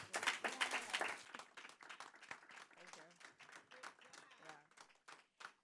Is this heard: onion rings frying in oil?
no